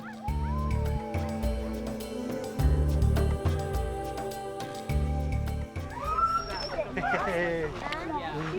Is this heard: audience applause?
no